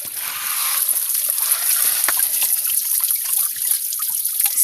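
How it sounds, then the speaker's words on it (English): A tiny waterfall trickles and splashes steadily up close, a bright continuous watery hiss with small droplet pops, heard outdoors alone without talk. "Nice little waterfall. Just a tiny one."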